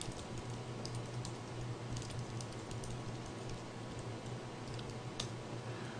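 Steady typing on a computer keyboard while writing a simple C program, quiet continuous clicking of keys with a few slightly sharper taps, no voices.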